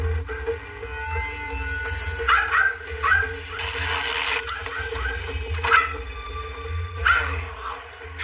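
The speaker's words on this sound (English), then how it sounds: "Shut up the dog." A dog barks and yips repeatedly in irregular bursts, fairly close and loud, over a low background hum in an action film scene.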